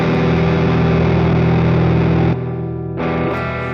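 Electric guitar run through a neural amp model with the boost engaged, a thick distorted sustained chord ringing loud, then cut short and briefly restruck near the end.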